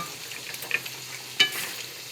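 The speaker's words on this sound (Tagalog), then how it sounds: "Ito yung sauce na pinapalapot ko." Chicken à la king sauce is being stirred and thickened in a pan over the heat. It gives a soft, steady sizzle, and a couple of light spoon scrapes stand out briefly, with no talking.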